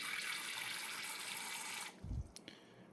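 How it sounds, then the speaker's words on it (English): Water is poured into a golden knee tarantula's water bowl, a steady close hiss of running liquid that stops abruptly, leaving a few soft splashes and drips. "fill this water bowl."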